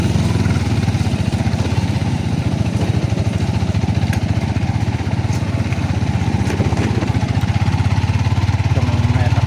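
A Yamaha Sniper 150 motorcycle engine runs steadily nearby for the whole stretch, a continuous pulsing putter with a few faint voices underneath.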